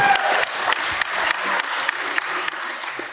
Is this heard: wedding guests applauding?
yes